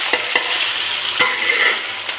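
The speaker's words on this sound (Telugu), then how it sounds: "పచ్చిమిర్చి ఆయిల్ కాగిన వెంటనే ఇవన్నీ ఇందులోకి వేసేసుకోవాలి" Okra, tomatoes, onions and green chillies frying in hot oil, a steady close sizzle broken by a few sharp stirring scrapes.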